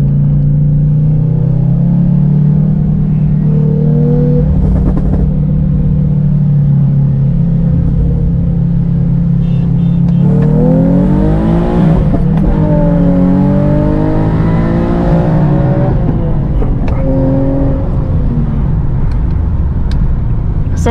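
A tuned Infiniti G37 on 91 octane without E85, racing in first gear, its engine droning loud and close, then revving hard with rising, sweeping tones and a brief shift dip.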